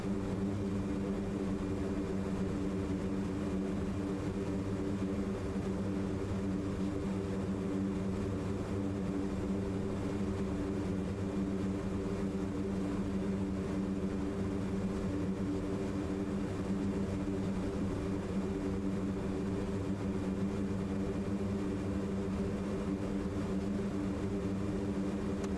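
Turboprop engines of a C-130J Super Hercules drone steadily in reverse thrust while taxiing, a loud, continuous, even tonal roar with layered hums and no talk.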